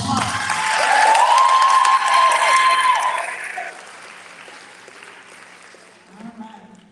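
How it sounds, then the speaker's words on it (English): Applause for an eighth-grade graduating class of 2021 at a commencement: a loud, dense crowd clapping swells for about three seconds, then fades into lighter scattered claps with a voice briefly heard at the end. "let's give them another round of applause"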